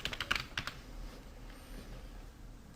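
Typing on a computer keyboard: a short cluster of close, quiet key clicks at the start, then near silence with faint room noise and one last tap at the end.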